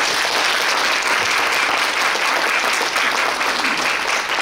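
Sustained audience applause fills a formal Suncheon tourism day award ceremony, a dense, steady wash of many hands clapping at full strength throughout with no pauses.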